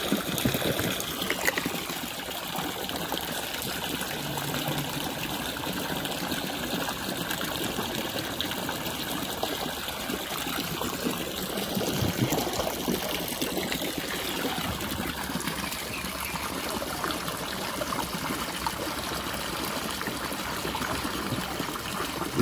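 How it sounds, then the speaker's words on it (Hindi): Water pours steadily into a 20 litre drum in a continuous gushing trickle that runs loud and unbroken throughout, close up, with no talk over it. "इसको आपने फुल कर देना पानी से। तो पानी में"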